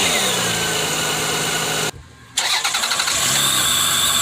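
Car engine fitted with a cold air intake cranks and catches after a brief gap, then revs in quick pulses before settling into a steady idle, loud and close.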